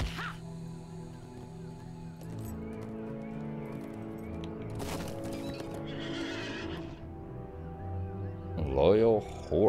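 A horse neighs and whinnies near the end of a scene in the video game Lord of the Rings Online, after steady hoof clip-clops and game music, with a brief crow call in the middle.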